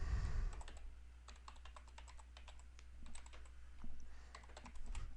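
Quiet, rapid clicking of keys on a computer keyboard as a web address is typed, an irregular run of light taps close by with brief pauses and no talking.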